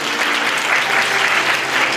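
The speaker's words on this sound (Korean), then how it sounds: "지나신부 부모님께 인사 여러분 큰 박수 부탁드리겠습니다" Wedding guests at a Seoul hotel ceremony applaud the bride's parents, a loud, steady, close wash of many hands clapping without pause.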